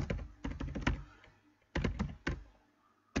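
Fingers type on a computer keyboard to enter a browser search, close and fairly loud. Quick clustered keystrokes come in short bursts separated by brief pauses, and no one speaks.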